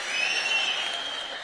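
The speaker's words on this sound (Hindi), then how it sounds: "जरा दोनों हाथ खड़ा करके तालियां बजाओ" An audience claps with both hands raised at a Hindi comic poetry gathering, a dense, steady wash of applause throughout, fairly loud and with no one speaking.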